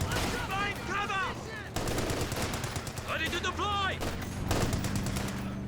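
Gunfire from the World War II strategy game Company of Heroes 2 in a 2v2 match on a Siberian map, with overlapping shots and bursts under warbling game effects and background battle noise.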